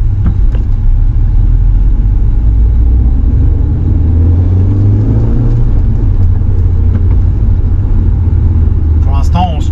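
A 2002 Audi TT 1.8T quattro with the 225 hp engine and six-speed manual gearbox cruises steadily, its loud low engine drone and road rumble filling the cabin while someone talks throughout.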